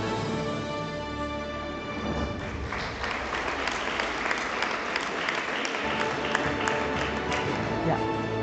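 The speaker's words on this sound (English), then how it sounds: "A big round of applause." An award ceremony audience for education honours breaks into loud, sustained applause, dense clapping that swells and continues steadily throughout, with crowd noise filling the hall.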